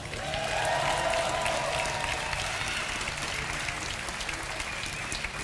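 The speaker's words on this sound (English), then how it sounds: "Give a big cheer for Evil Genius's Jaedong." An esports audience at a StarCraft 2 tournament cheers and applauds as a player is introduced, a loud swell of clapping and shouting in a hall that stays steady and broad throughout.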